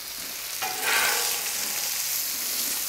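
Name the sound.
Polish sausage frying on Camp Chef FTG600 griddle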